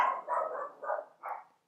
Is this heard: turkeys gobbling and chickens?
no